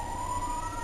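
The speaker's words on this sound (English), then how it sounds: "the sirens mean that the police are coming to take me away" A police siren passes outside, a steady wailing tone held across the whole short stretch over a low rumble, moderately loud and with no talk over it.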